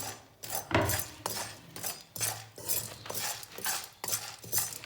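Popcorn kernels are stirred in a metal pot with a utensil in steady repeated scraping, rattling strokes, each a sharp rasp of hard kernels against the pot. Close and moderately loud, with no talk.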